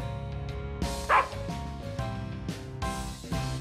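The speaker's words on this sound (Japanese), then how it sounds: "鳴き声まで犬そっくりなのかよ。" A dog-shaped robot barks like a real dog in a game scene, giving several bright, harmonic barks and yips in quick succession, loud and close over soft background music.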